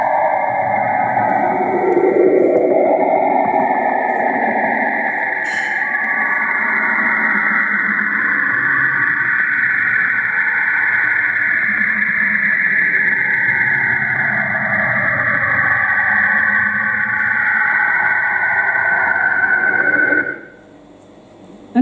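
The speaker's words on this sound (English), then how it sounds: "this is one of the planet sounds that I wonder if it evokes what you think a planet sounds like" Planet sound recorded in space and shifted down in frequency into the audible range: a sustained, loud, wavering electronic tone with sweeping whistles and hiss, continuous for about twenty seconds before cutting off abruptly near the end.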